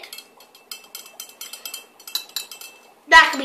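A utensil stirs soap and water in a container, giving quick, light clinks and taps in an uneven rhythm, then a louder clatter and a brief voice at the end.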